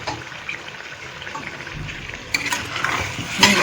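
Stirring and sautéing a cashew and raisin mixture with a little water in a pan for muri ghonto, soft scraping and gentle sizzling, growing louder near the end with sharper utensil clatter.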